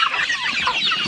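Chickens cluck close by in a brief burst of overlapping, busy calls.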